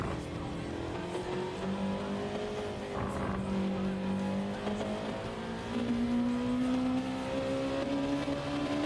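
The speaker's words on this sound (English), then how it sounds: "you can hear the engine misfiring as I'm trying to accelerate" A damaged racing car engine in a video game misfires at the Nürburgring, droning and revving unevenly, its tone sputtering and wavering as it strains to accelerate.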